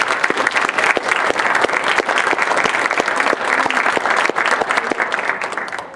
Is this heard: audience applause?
yes